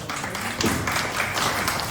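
Applause from an audience at an academic lecture welcoming a speaker, a dense wash of clapping from the start, fairly close and steady, with a faint voice underneath.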